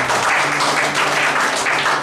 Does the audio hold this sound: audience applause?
yes